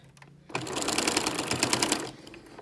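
A sewing machine stitching a cardigan runs in one close, rapid mechanical burst of about one and a half seconds, with quieter handling sounds before and after.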